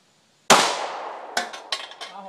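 A Glock pistol fires one sharp, loud shot with a decaying ring, then a few smaller clanks and snaps follow close by.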